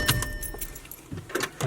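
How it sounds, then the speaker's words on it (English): Keys jangling in the ignition of a Ford Sapphire RS Cosworth as it is switched off and on, several short metallic clinks and clicks spread over under two seconds, close and fairly quiet. "So let's turn the car on and off."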